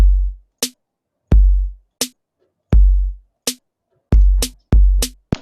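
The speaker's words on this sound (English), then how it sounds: "is kick, snare, kick, snare, kick, snare, kick, snare." A drum machine plays an alternating kick and snare pattern, deep booming kicks trading with crisp snare snaps in a steady, fairly quick rhythm.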